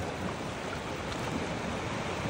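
Continuous broadband roar of high-tide surf at a seaside shore, steady and fairly loud, with wind buffeting the microphone and no voices.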